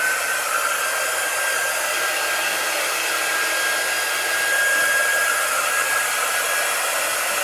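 A hair dryer blows continuously over freshly made chalk art, a loud, steady whooshing drone held the whole time with no talking.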